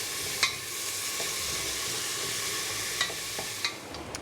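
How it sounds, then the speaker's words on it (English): Ginger garlic paste fries in a pan with a steady, even sizzle, broken by a few light clicks of stirring, with no voices. "And the ginger garlic paste. I'm going to fry this up for about 2 minutes."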